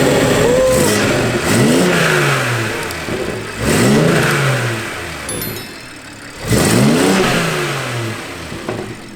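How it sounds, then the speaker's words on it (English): A car engine fitted with a new intake revs three times in quick bursts, each throttle blip rising sharply and falling back to idle, loud and close with no talking over it. "We're gonna have my boy rev it really quick to see if it sounds any different."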